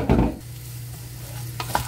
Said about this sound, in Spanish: voy a revolver súper bien, ya se me estaba queriendo como pegar